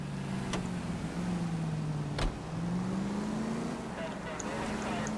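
Engine of a car driven in the video game L.A. Noire, a steady low hum that rises and falls as it accelerates, with a couple of brief clicks and someone talking over it.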